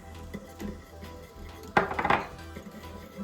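A spoon scrapes and clinks against a pan while milk-and-egg custard for a Boston cream pie is stirred, soft and close, with one brief louder flurry of clatter midway.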